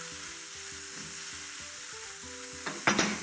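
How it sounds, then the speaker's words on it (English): Steady sizzling of chorizo frying in a hot pan, with a brief clatter of stirring near the end. "So while that's nice and hot and it's frying"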